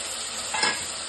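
Yogurt goes into a hot, sizzling pan of vegetable biryani, a short burst of frying hiss and stirring that swells briefly in the middle over a constant background sizzle, close up, with no voices.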